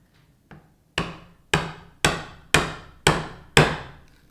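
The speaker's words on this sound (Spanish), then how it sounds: "golpeamos con el martillo" Hammer striking a narrow chisel into wood to cut a mortise for a wedged through tenon joint, six sharp evenly spaced blows ringing close and loud after a faint tap.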